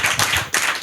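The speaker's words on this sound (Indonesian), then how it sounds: "Mari tepuk tangan." An audience at a televised political debate clapping, a brief, loud burst of close applause with two quick swells.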